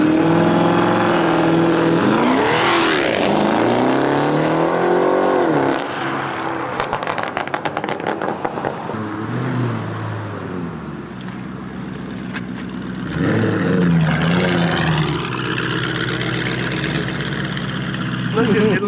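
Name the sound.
tuned Lamborghini Urus on 24-inch wheels accelerating hard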